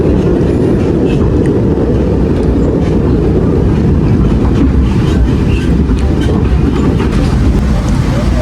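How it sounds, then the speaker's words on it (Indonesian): Bangunkarta economy passenger train on the Jombang–Jakarta route running at speed, a steady loud rumble with faint wheel clicks throughout, heard from inside a carriage. "kereta api Bangunkarta memasuki pemberhentian berikutnya, stasiun Solo Balapan"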